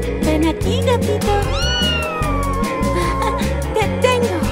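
A cat meows once with a long, drawn-out sliding cry, heard over a steady, bouncy musical backing.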